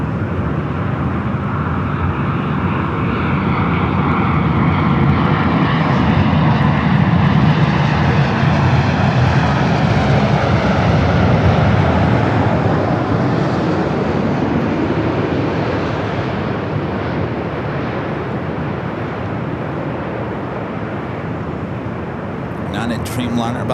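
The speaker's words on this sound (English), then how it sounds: "Dreamliner about to touch down at 24 right." Boeing 787 Dreamliner heavy jet landing at LAX runway 24 right, a loud sustained roar of jet engines that swells and slowly fades, with airport radio chatter underneath.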